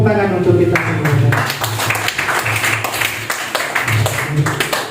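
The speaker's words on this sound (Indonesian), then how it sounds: "Tepuk tangan untuk kita semua." An audience at an Indonesian education event claps along with a voice, a dense patter of hand claps running throughout and rising and dipping under the talk.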